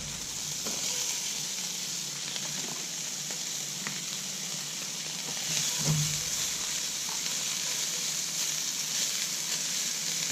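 Scrambled eggs sizzle steadily in a pan at a campsite, a continuous crackling hiss with a few soft scrapes and clinks of a utensil and no talking.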